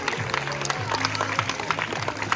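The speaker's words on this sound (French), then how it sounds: "Et on peut l'applaudir bien fort." At a zoo sea lion show, an audience claps for a sea lion's jump, scattered applause with music playing underneath.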